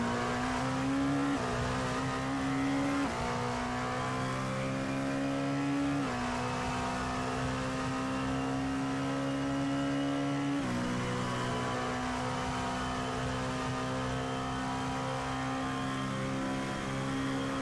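An onboard race car engine revs loud and close during a Le Mans sim-racing esports event, its steady drone climbing in pitch and dropping with each gear shift, several upshifts in a row, with no voices.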